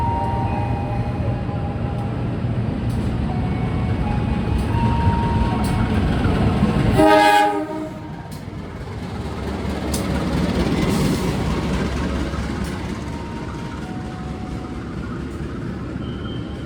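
An Indonesian economy-class passenger train on the Cilacap–Yogyakarta route rumbles past steadily, its horn blaring loudly midway for a couple of seconds before the rolling rail noise continues alone.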